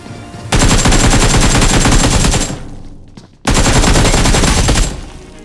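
Sustained automatic gunfire in the mobile shooter BGMI, loud and close, two long bursts separated by a brief lull near the three-second mark, with no talk over it.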